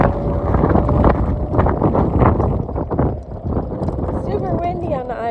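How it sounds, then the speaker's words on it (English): Strong wind sweeps across an island, buffeting the microphone with continuous roaring gusts while a person talks over it. "Super windy on the island today,"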